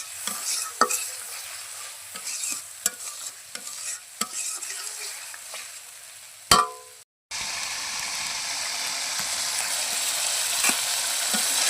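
A spice paste of coriander powder and cumin paste sizzles and fries in a pan over a clay stove, with a steady hiss punctuated by scraping stirs and a brief break before the frying resumes.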